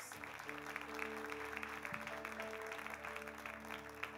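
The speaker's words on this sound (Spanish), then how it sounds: "Un aplauso para estos actores." A church congregation applauds actors after a Sunday service reading, a faint, dense patter of clapping beneath a steady tonal hum, with the sound evenly spread and distant.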